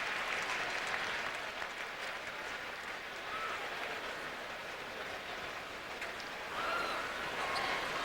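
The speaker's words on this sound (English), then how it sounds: "let's have one more round of applause for all of the 2004 NBA All-Stars" A large arena crowd at the 2004 NBA All-Star Game keeps up broad, distant-sounding applause and cheering, a continuous roar without distinct individual claps.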